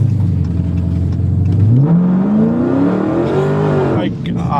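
Heavily modified 1000hp Dodge Hellcat doing a rolling burnout on a highway, its loud engine droning low then revving up with rising pitch, steady and close throughout.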